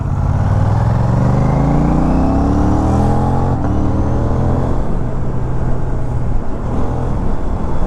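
An Aprilia RS 457 sport motorcycle fitted with a GPR exhaust, DB killer installed, pulls hard on a night ride, its loud engine note climbing through the revs, dropping back and droning steadily under strong wind rush.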